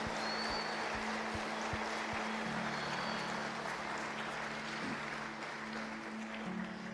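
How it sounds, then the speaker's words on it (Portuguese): Church congregation applauding, a faint, diffuse wash of clapping over a low steady hum, continuing evenly for several seconds. "Então aplauda o Senhor Jesus."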